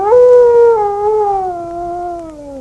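A dog howls in one long, loud, sustained note that slowly falls in pitch, close and prominent with no speech over it, set within an audiobook reading.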